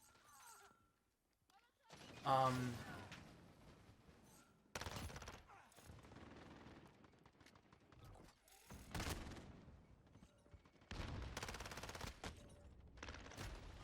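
Automatic turret fire in the video game Modern Warfare, coming in loud sustained bursts separated by short lulls, with a voice talking over parts of it.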